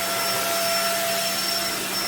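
A Riccar Steward stick vacuum runs steadily up close, giving a continuous airy motor whine with a faint high tonal hum, at an even level throughout.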